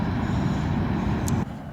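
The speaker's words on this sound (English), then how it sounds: "That's the end of that train" A CSX freight train rolls across the Schuylkill River bridge, a loud low rumble of wheels and cars that drops off abruptly as the last car clears.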